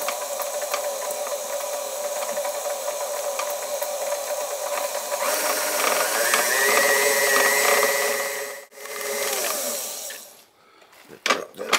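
An electric mixer beats fruitcake batter in a bowl with a steady, loud whir that swells midway, briefly cuts out, then returns before stopping near the end.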